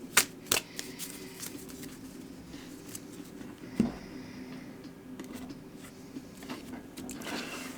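Tarot cards being shuffled by hand: soft riffling and papery flutter, fairly quiet and close, with a few sharper snaps and taps of the deck, no talking.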